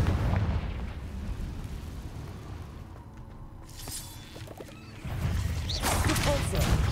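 The Confringo fire spell bursts in the game Hogwarts Legacy with booming, rumbling explosive blasts and whooshes. It is loud at the start, dips in the middle with brief crackles, then surges again near the end.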